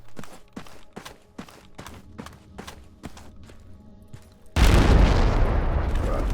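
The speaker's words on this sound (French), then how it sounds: "notez la différence de l'explosion" Several sharp, evenly spaced clicks or footsteps give way to a sudden loud explosion with a long rumbling roar and debris noise, set in the military shooter Project Reality.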